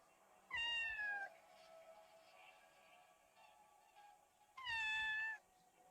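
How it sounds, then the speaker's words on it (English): In the video game OFF, a cat gives two loud, drawn-out meows separated by a few seconds of quiet, each one a clear rising and falling wail heard alone. "I am meowing at the top of my lungs, pretending the echoes belong to someone."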